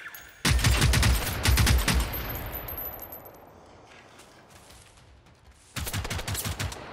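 Automatic gunfire in Generation Zero aimed at a satellite: a loud burst of rapid shots, a fading ring-out, then a second burst of fire near the end.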